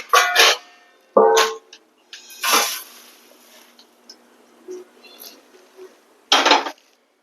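Metal clinks and scrapes come in several short bursts as something is tipped and scraped onto a metal plate, with quiet pauses between.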